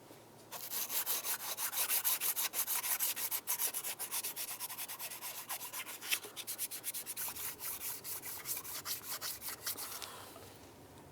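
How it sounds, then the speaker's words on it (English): Sanding block fitted with clean sandpaper rubbed back and forth over the intake surface of a 2010-2013 Ford Transit Connect engine, a steady close scratchy scrubbing with rapid strokes for about ten seconds, no voices. "Let's use our sanding block with some clean sandpaper."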